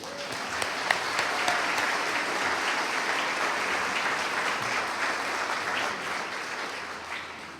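Sustained audience applause fills the room evenly from start to finish, a broad continuous patter of many clappers at moderate loudness, with no speech heard.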